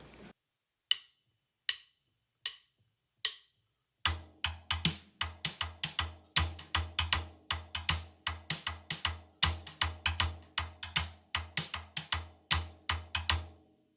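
Drum rim clicks open the intro with a few sparse strokes, then the steady accented rim click rhythm comes in with low kick beats underneath, played close and without talk.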